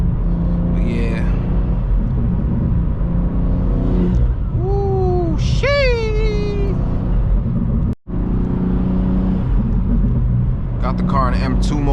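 A BMW G87 M2 in M mode rumbles and pulls hard while driving, its engine droning loudly under excited talk from the occupants, with rising revs and tonal engine notes sweeping up and down.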